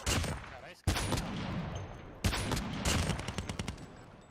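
Dense bursts of rapid gunfire crackle in Call of Duty Mobile, with two sharp breaks between volleys and a steady roar of shots throughout.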